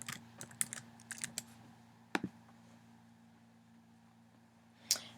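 Keys on a computer keyboard click in a quick irregular burst as a password is typed, then a lone click follows a pause, and one more tap comes near the end in a quiet room.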